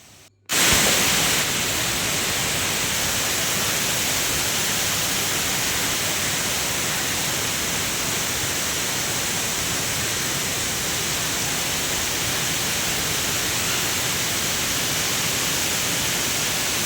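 Thirparappu Falls roars as a loud, continuous wash of broadband rushing water that starts abruptly after a brief quiet moment and stays constant throughout.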